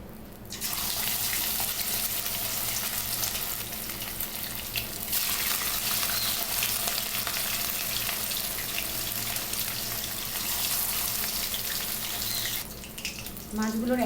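Katla fish slices dropped into hot mustard oil in a kadai, giving a loud, steady broadband sizzle that runs nearly the whole time, close up and without talk.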